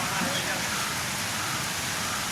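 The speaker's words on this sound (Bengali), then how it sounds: "আকাশটা পুরো কালো হয়ে রয়েছে দেখুন পুরো বৃষ্টি" Steady broadband hiss of rain falling, continuous and fairly loud, with a faint voice underneath.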